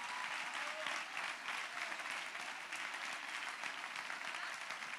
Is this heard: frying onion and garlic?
no